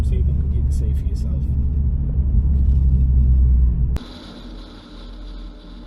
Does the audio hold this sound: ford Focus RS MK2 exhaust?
yes